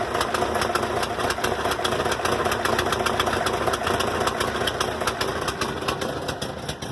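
A Volkswagen Westfalia Vanagon's engine runs steadily at a rough idle, a continuous close mechanical rumble with rapid regular pulsing throughout.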